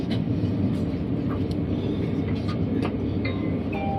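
A TGV inOui high-speed train pulls out of Massy toward the LGV Atlantique, heard from on board as a steady, moderately loud rolling rumble with faint scattered squeaks and clicks.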